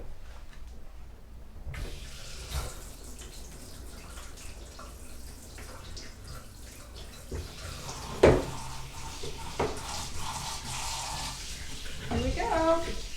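Tap water runs into a kitchen sink while a pumpkin is washed, a steady close splashing with occasional bumps and handling noises as it is rinsed.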